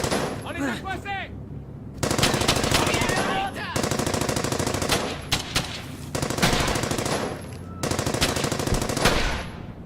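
Machine gun fire in the World War II video game Brothers in Arms: Hell's Highway, loud rapid bursts that come in several clusters with short gaps between them amid chaotic battle noise.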